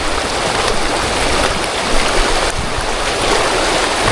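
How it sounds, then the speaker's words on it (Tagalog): Water rushing and splashing close by as someone wades across a river, a steady broadband wash with brief louder surges, no voices. "Ngayon po, tawid tayo ng ilog."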